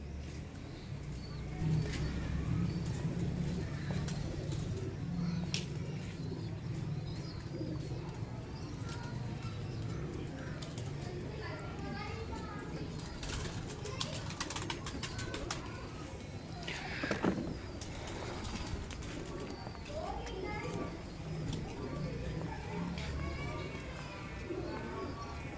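Kamangar breeder pigeons coo in low, repeated, throaty calls mixed with occasional chirps, close by and continuing steadily over a light background hum.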